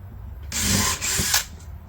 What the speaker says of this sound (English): you could pre-drill these holes, you could drill them now